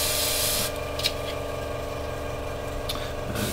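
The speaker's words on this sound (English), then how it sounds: "because we're spraying white like this, we're going to spray it neat" Airbrush spraying neat white paint at about 35 psi onto the tail planes of a 1/48 Academy SU-27UB Flanker model, a steady close hiss with a brief burst near the start.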